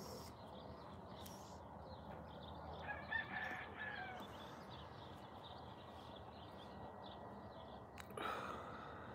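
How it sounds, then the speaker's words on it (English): A rooster crows twice, faint and somewhat distant, over a low steady background hum with no talking. "cock-a-doodle-doo."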